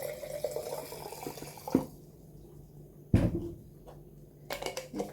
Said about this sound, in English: You're then going to fill that jar with water.